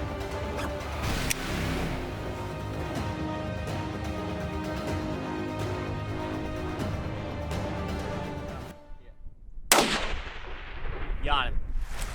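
A long-range hunting rifle fires one loud, close shot at an aoudad ram in West Texas after a stretch of steady background rumble, and a brief whooshing burst follows in the quiet.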